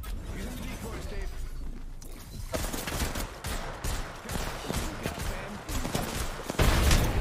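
Gunfire in the Apex Legends video game during a one-versus-three match, with rapid automatic bursts and repeated shots that get louder near the end, mixed with other game effects.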